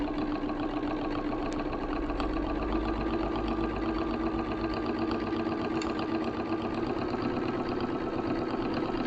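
A sewing machine top stitches a cord tidy pouch, running at a fast, even rhythm with steady motor hum and rapid needle clatter, close and continuous throughout.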